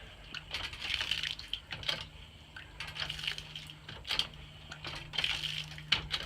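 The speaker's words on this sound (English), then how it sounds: "it takes no time at all to get water out of this thing" Water gushes in uneven, rhythmic spurts from a shallow-well hand pump, each stroke bringing a splashy surge close by, with faint creaks between pulses and no voices.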